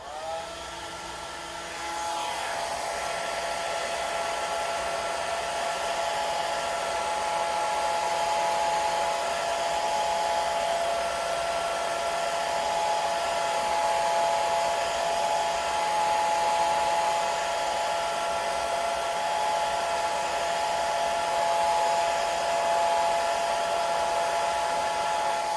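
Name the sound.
hair dryer on low drying watercolor paint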